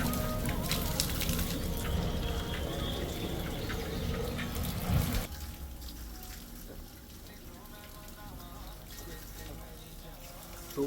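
Fresh mountain spring water near Manali pours into a small bottle in a continuous rushing splash, loud and close at first and then a softer steady flow, with some background voices.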